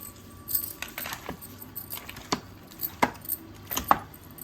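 Chicken pickle being mixed with salt, pepper and lemon juice, a spoon clinking and scraping against a metal bowl in irregular close taps.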